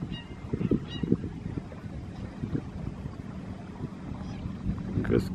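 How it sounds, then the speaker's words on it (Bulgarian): Geese honking on a river beach at sunset, scattered short nasal honks at moderate distance over an outdoor wash of wind and water, with people talking quietly nearby. "Гъски тук е."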